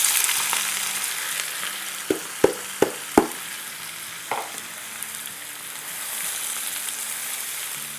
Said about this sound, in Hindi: तो जिसमें से मैंने लेस देन ½ किलो सेपरेट कर लिए और मोर देन 1 किलो जो है यहाँ रखी है, जो कि अभी मैं इसको फ्राई करूँगी